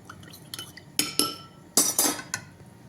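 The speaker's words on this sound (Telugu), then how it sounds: "అలాగే ఇది చిక్కబడి దాకా తిప్పుకుంటూ ఉండాలి ఫ్రెండ్స్" A spoon stirs thickening buttermilk sauce in a pot, making several distinct metallic clinks and scrapes against the pot's sides, fairly close and irregular, with quiet gaps between strokes.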